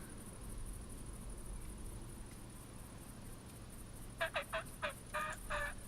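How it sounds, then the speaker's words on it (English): A wild turkey gobbles in the hunting video game theHunter Classic, on Whitehart Island, with a few quick rattling calls near the end over a steady hiss of outdoor ambience. "Hello, turkey."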